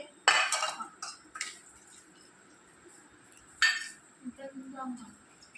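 Food and tamarind water are poured and served into large bowls amid sharp clinks of dishes, pots and cutlery, with a few distinct knocks and a softer pouring patch near the end, close and fairly quiet.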